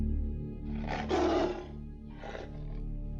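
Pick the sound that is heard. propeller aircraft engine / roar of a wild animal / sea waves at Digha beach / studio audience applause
roar of a wild animal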